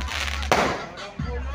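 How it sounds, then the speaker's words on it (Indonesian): Fireworks and firecrackers burst at a neighborhood fireworks celebration, with a sharp close bang followed by a second softer pop over a constant low crowd rumble. "ini kita sudah di puncak acara kembang api"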